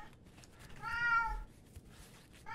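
One clear, drawn-out meow from a cat in a factory, rising and falling over faint background noise, followed by quieter rustling.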